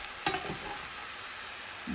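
Tomatoes and ginger stir-frying in a large pan, a soft steady sizzle with one sharp scrape of the spatula near the start.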